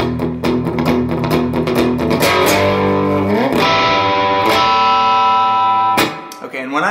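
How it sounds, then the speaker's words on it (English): The opening riff on a distorted electric guitar at normal speed, loud and close, with driving chugged notes, sliding pitch bends and ringing sustained chords ending in a brief stop. "at normal speed, the opening riff sounds like this."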